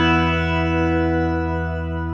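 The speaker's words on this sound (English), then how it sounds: "the reverb is way more prominent in the mix" An electric guitar runs through a Headrush pedal's shimmer reverb, its sustained chord ringing with a bright upper-octave layer and a wash of reverb that fades slowly across the whole stretch, with no talking.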